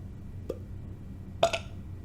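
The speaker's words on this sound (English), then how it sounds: "not super cold beer that's making me burp all over the place" A man burps after drinking beer: a short faint burp, then a louder, rougher belch close to the microphone, over quiet background hum, with no talking.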